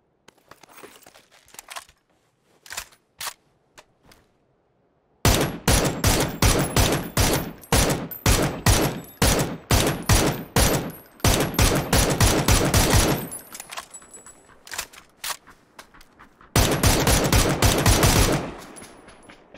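Rapid bursts of close, loud automatic gunfire in PUBG, sharp shots in quick strings with short pauses between bursts, preceded by a few scattered single shots.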